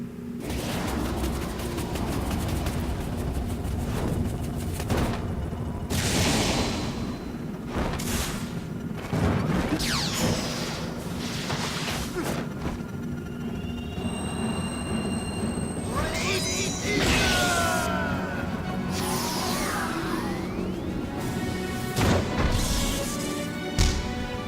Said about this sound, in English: Ike slashed a bomb with a sword